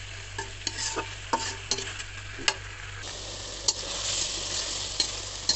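Nowla fish curry sautés in a pan with a continuous sizzling hiss, while a spatula stirs and taps against the pan in frequent light clicks.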